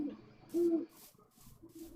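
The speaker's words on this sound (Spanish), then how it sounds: "¡Un búho!" An owl in the video game Minecraft gives a single clear, steady hoot, then fainter tonal calls follow amid light background sounds.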